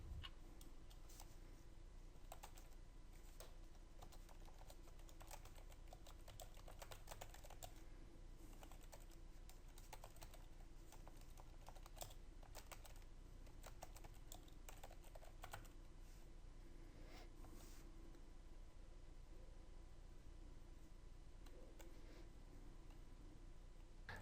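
Typing on a computer keyboard runs steadily for the whole stretch, quick light key clicks in a continuous patter at a moderate distance, with faint background hum and no one speaking.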